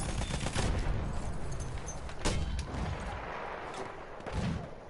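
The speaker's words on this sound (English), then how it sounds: "I got some nice mortars just to greet them" Mortar and gunfire blasts in the World War I shooter Battlefield 1: a dense, rolling barrage of booms and crackling shots. A heavier hit lands near the start, then more bursts swell and fade with no pause.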